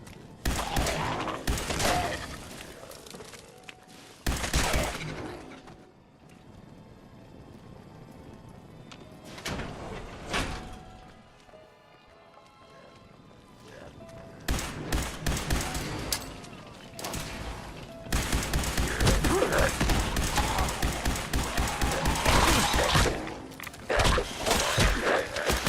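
Gunfire in the Fallout video game, loud bursts of rapid shots that come in clusters with brief pauses between them, plus clattering mechanical sounds, and no voices.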